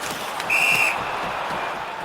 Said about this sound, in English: And we got a whistle here, a penalty call.